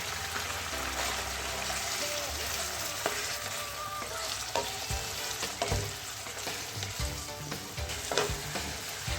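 Liver sizzles and fries steadily in a pan with ginger garlic paste, with occasional stirring scrapes and crackles over the continuous hiss.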